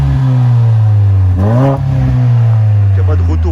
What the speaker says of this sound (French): je vais vous faire écouter le bruit qu'elle fait. Celle-ci elle est équipée de l'échappement de performance, donc elle fait pas mal de bruit.